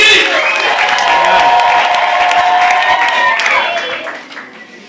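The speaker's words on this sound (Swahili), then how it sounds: "Makofi mazuri." A crowd applauds steadily at a wedding ceremony, a dense sustained clapping that fades out near the end, with voices mixed in.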